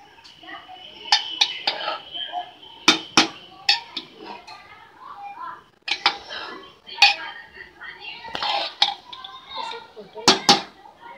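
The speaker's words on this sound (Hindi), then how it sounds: "अब हम इसे मिक्स भी कर लेंगे" Cooked vegetable pulao is stirred in a pressure cooker, a metal spoon clinking and scraping against the pot in irregular knocks while a person talks over it.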